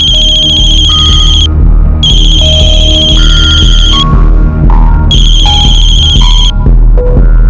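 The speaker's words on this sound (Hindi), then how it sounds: "तो बार बार कॉल कर रहा है।" A mobile phone rings with an incoming call, a loud repeating electronic ringtone melody playing steadily in bursts with short gaps, close and alone without any voices.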